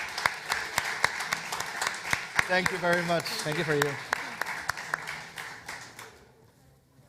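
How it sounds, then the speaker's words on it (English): Applause from a summit stage audience, a steady run of claps that fades out near the end, with a person speaking over it in the middle. "give them a hand of applause"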